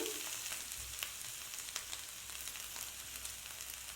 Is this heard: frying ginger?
yes